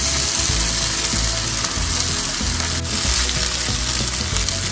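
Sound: rice added to a hot pan for pulao, sizzling

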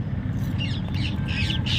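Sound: parrots squawking in the evening

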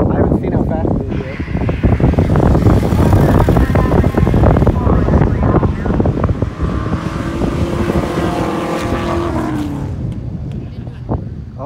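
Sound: Ford Mustang GT racing

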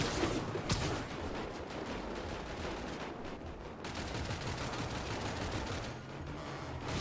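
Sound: gunfire aimed at the player in the video game GTA 5

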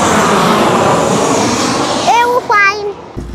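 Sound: airplane flying overhead

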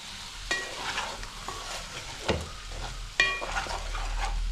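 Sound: goat intestine and lung curry simmering in a pan

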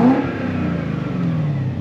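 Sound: BMW 5 Series V8 engine revving

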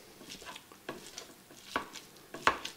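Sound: hamburger meat being broken up and sizzling on countertop burner

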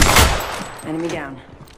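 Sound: gunfire hitting player in Apex Legends video game

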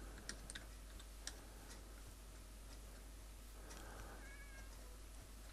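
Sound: cat meowing in the video game Minecraft

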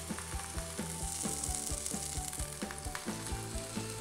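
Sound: burger patty frying in a pan

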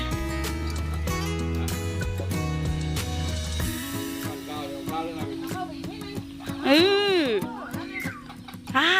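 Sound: chickens clucking on a farm

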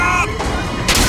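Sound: gunfire in the video game Bioshock Infinite

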